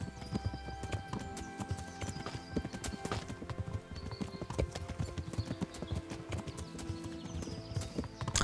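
Horse hooves clip-clopping steadily as a rider travels in the video game Kingdom Come: Deliverance, an even rhythmic clatter of hoofbeats under a faint background score.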